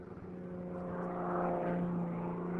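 An aerobatic propeller airplane flies past with a steady droning engine and prop hum that swells slightly in the middle, continuous and fairly close, with no talk.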